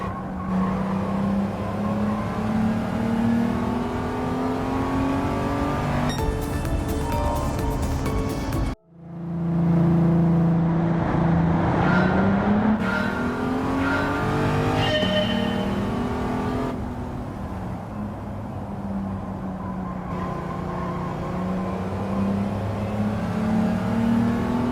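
A 2003 Audi TT Coupe 3.2 Quattro in a video game license test revs hard through repeated gear changes, its engine pitch climbing and dropping, with a brief cut to near silence partway through and a couple of tyre squeals.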